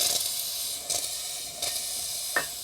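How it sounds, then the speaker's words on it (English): Steam hisses steadily from a cheap espresso machine's steam wand as excess water is bled out, with a few sharper pulsing bursts breaking through the continuous rushing sound. "So I'm bleeding out all of the excess water. You're hearing kind of this pulsing sound."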